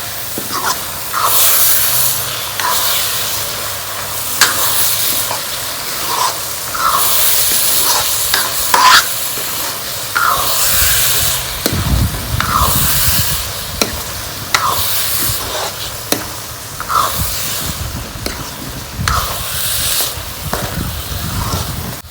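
Carrot malai barfi mixture cooking in a pan with ghee, a steady close sizzle broken by repeated scraping and stirring strokes of a spoon in a rhythmic pattern, with no talking.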